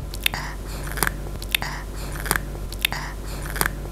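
Someone bites and chews a crispy snack close to the mic, making sharp crunches in an irregular rhythm, about six or seven bites over a few seconds, against quiet background.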